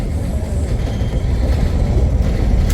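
An RTA light rail train rolls into downtown Cleveland over bridges, a steady loud low rumble of wheels and carriage noise heard from on board with no talk.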